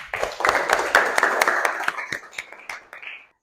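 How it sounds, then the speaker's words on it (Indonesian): A small group of people clap their hands in a short, loose burst during a teacher's lesson, with sharp separate claps thinning out and fading to silence after about three seconds. "Tepuk tangan."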